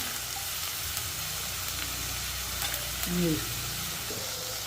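Chickpeas frying with masala in a pan for a brinjal and chickpea curry, heard as a constant close sizzle with occasional stirring scrapes, and a voice speaking briefly partway through.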